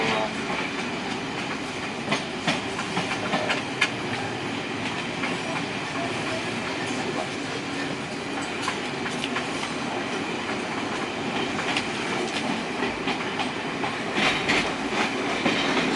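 A steam-hauled train, the Clan Line, runs steadily on rails, heard from inside the carriage as a continuous rumble with clickety-clack wheel beats and occasional rattles throughout.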